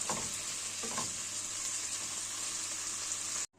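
Liver and potatoes fry in a pan with a steady, close, bright sizzle, while a couple of soft stirring scrapes come early.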